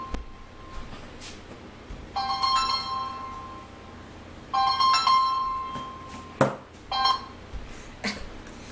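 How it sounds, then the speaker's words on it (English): A phone ringing indoors in a home, its electronic tone sounding in two or three bursts with harmonic beeps, separated by short gaps and a few sharp clicks, moderately loud with no talk over it. "Is that my phone?"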